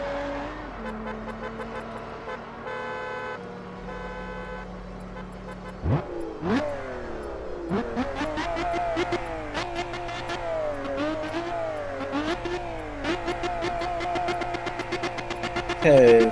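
A Lotus Exige V6 Cup race car's engine idling and then revved hard repeatedly at full throttle while stationary, with the pitch climbing and falling in loud, close bursts and sharp throttle blips.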